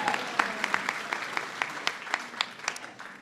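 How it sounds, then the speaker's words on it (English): An audience gives a steady round of applause at a Hanukkah gathering in the White House, dense clapping of moderate loudness with a few sharper individual claps standing out, with no talking over it. "Now, yeah, you can give yourselves a round of applause."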